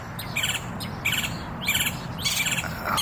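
Birds chirp outdoors in the early morning, with repeated bright bursts of tweets in a loose rhythm over a steady low background hum, fairly close and clear.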